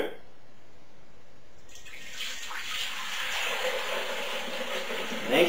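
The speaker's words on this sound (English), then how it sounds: "next step will be to pour this through the filter." Homemade whisky mash is poured through a berry juice filter, a thick liquid splashing and trickling steadily at close range after a quiet start, swelling briefly at the end.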